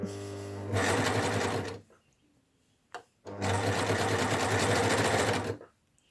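A Baby Lock Ovation sewing machine stitches a single-fold hem on fabric in two loud, steady runs of about a second and two seconds, separated by a short pause with a brief click.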